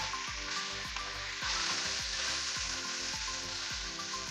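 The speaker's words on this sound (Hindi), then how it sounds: "चिकन का कलर जब तक चेंज होता है फ्राई करते हैं।" Boneless chicken strips frying with garlic in hot oil give a steady, close sizzle with a constant crackling hiss and faint stirring, no voices.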